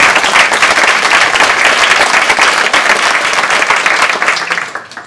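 A church congregation applauds loudly, a thick, continuous roar of many hands clapping that holds steady before tapering off near the end.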